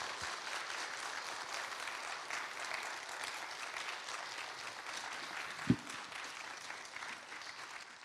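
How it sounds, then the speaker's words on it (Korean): Church congregation applauding at a Wednesday prayer service in Korea to welcome a pastor, a steady, even wash of clapping held at moderate level throughout, with one sharp knock or bump partway through. "우리 목사님 나오실 때 박수로 환영하도록 하겠습니다."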